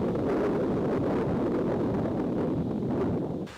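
Strong wind gusts around a tent at a lakeside campsite during a canoe trek in Finland's Kolovesi and Linnansaari national parks, a steady, close, buffeting roar with no voices that eases off at the very end.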